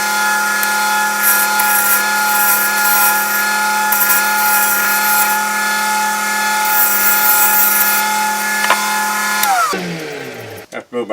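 A wooden bottle stopper spins on a lathe as a chisel shapes it, a steady loud motor whine with a scraping cutting hiss throughout, then the machine winds down near the end.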